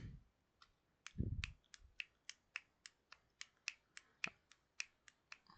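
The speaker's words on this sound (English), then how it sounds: "I'm snapping my fingers. Can you hear? I'm snapping my fingers." Crisp finger snaps repeat in a steady rhythm, about a dozen of them, close and clear over near silence.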